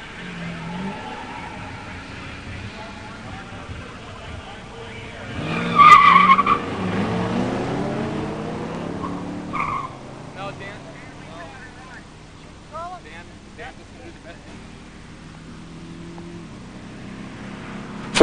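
An '87 Mustang 302 five-speed races a '71 Grand Sport 455 automatic at a pure stock drag strip, with a sharp burst of tire squeal and revving engines that then fades into distant engine noise.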